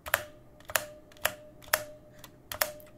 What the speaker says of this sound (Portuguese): quando você digita umas teclas nessa região aqui, sai um som de metal, como se fosse uma mola soando